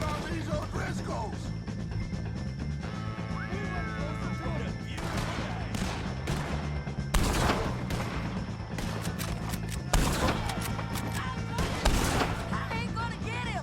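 A Red Dead Redemption 2 shootout against O'Driscoll gang members brings bursts of gunfire, with scattered shots and a few heavier cracks at irregular intervals over a steady background, while voices call out between them.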